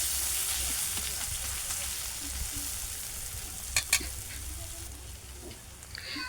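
Onion and prawns with turmeric stir-frying in a pan, a soft, steady sizzle heard fairly quietly, with a couple of quick utensil clicks midway and a scrape near the end.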